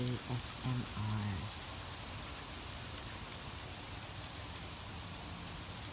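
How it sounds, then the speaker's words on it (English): Hail and sleet pelting down outdoors in early April in Canada, a dense, steady hiss of hard drops on surfaces throughout, with a few brief low tones near the start and no speech. "It's hailing in Canada. Snow hailing in the beginning of April."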